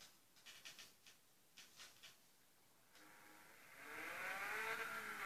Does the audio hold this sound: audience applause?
no